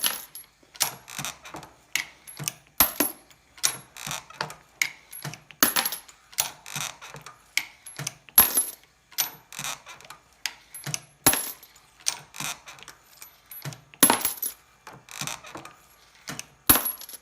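Metallic clinks and rattles of 5.56/.223 brass cases being processed in a Lee APP swage press, a fast, steady run of sharp taps and drops, close and fairly loud with no speech.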